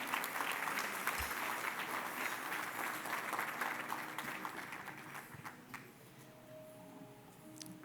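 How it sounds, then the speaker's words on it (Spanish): A church congregation applauds together, a dense burst of clapping that starts full and gradually thins and fades toward the end, with no talking. "Dar un aplauso a la palabra del Señor."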